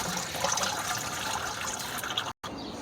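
Thick, watery kitchen-scrap compost from a tray drains through a clogging colander, a steady close splashing and trickling that cuts out abruptly for a moment near the end.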